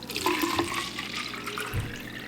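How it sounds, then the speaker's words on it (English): Tap water running into a water bottle, a steady close splashing rush with a faint tonal gurgle as it fills, heard alone. "I'm filling up a water bottle."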